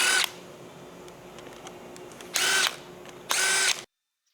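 A power drill or impact driver unbolts engine parts on a 2020 Subaru WRX STI during engine removal, giving two loud, close bursts of about a second each over a low background hum, with a brief buzz at the very start.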